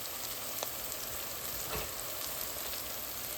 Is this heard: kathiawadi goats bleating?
no